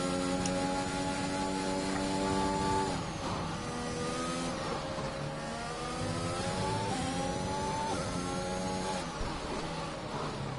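F1 2021 video game race cars, a McLaren and a Mercedes battling for position, scream through repeated rising gear-change sweeps, their engines layered and continuous at a moderate level.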